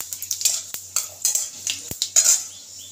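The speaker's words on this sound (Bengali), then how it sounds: "অল্প একটু ভেজে নিই পাঁচফোড়নটাকে" Bay leaves and panch phoron spices frying in a pan for dal, heard as light sizzling mixed with sharp clinks and scrapes of a utensil stirring against the pan, close and intermittent.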